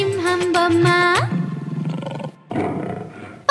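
A roaring lion sound effect for a toy lion in a children's rhyme: a loud, growling roar that swells and rasps for a couple of seconds after a brief tonal, sung-sounding opening.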